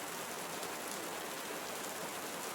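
Steady rain falls in a Costa Rican tropical rainforest, a dense, even wash of patter with no pauses and no voices.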